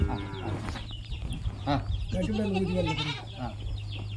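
A goat with a broken leg bleats close by, with farmyard birds clucking faintly around it and people talking quietly nearby under a steady low hum.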